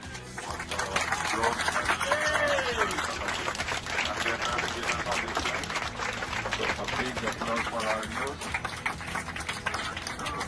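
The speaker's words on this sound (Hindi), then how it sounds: "एयर इंडिया का वो विमान भी तालियों की गड़गड़ाहट से गूंज उठा" Passengers and crew aboard an Air India plane returning from Paris clap for the hockey team, a steady roar of applause with cheering voices mixed in throughout, dense and sustained.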